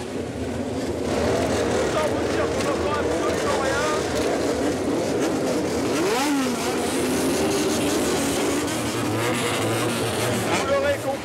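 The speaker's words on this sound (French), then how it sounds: "Ils se retrouvent sur les autoroutes de Tokyo pour accélérer très fort et surtout faire du bruit." Street racers' car and motorcycle engines on a Tokyo highway rev and roar loudly, rising and falling in pitch as they pass, with a narrator's voice talking over them.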